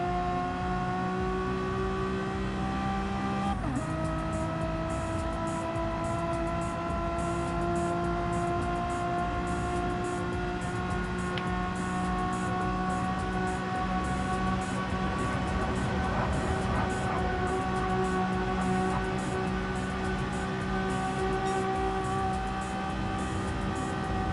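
Megane Trophy race cars in a racing video game, a continuous engine drone with steady harmonic whine and small pitch shifts as the cars accelerate, brake and downshift, with no audible talk.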